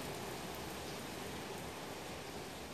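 A heavy rain shower pours down steadily, a dense, even hiss of countless drops hitting surfaces that stays loud and unbroken throughout, with no talking.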